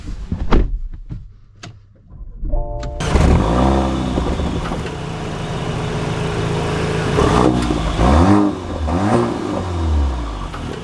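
A 2025 Porsche Macan T SUV sets off after a few sharp clicks and thumps, its engine note climbing through two strong acceleration pulls with rising, gear-stepped sweeps over steady road and cabin rumble.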